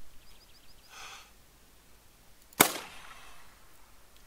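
A single sharp, loud gunshot at a hare in the hunting video game theHunter: Call of the Wild cracks out alone, with a faint breath before it and a short decaying tail afterward.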